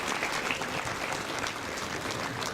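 A seated audience bursts into sustained, dense applause at a public talk, the steady clapping holding at an even, close level for the whole stretch with no voices over it.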